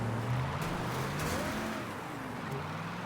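Car driving in Mafia 3, a steady low engine drone with slight pitch shifts, close and continuous, with faint background game noise and no talking.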